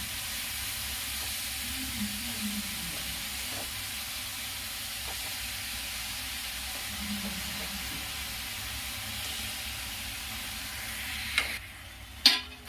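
Mustard greens and spinach sabzi are stirred in a pan, with a soft continuous sizzle and hiss and a few sharp utensil scrapes and clanks near the end.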